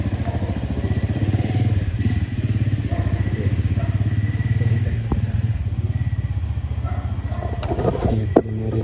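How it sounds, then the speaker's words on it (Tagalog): Motorcycle engines rumble loudly and steadily as two riders pass close by outside a house, the droning motor sound continuous with some clatter and faint background noise. "Yun o, dalawang nakamotor."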